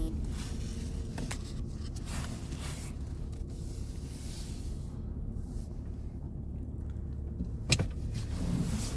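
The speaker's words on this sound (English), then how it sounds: "Driving it down the street." A 2021 Toyota Highlander Hybrid driving down a street, heard from inside the cabin as a steady low road and engine rumble with a brief louder bump near the end.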